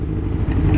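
Close, loud sport motorcycle exhaust at a Miami bike meet, a gritty low engine rumble broken by a sharp pop or bang midway and rising again toward the end.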